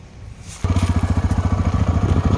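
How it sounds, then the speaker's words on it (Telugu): TVS Raider 125 motorcycle engine starting up and then idling close by, a steady rapid putter that begins abruptly after a moment of quiet. "సరే బైక్ ఇంజన్ స్విచ్ ఆన్ చేసి చూద్దాము ఎంత ఫోర్స్ పడుతుందో"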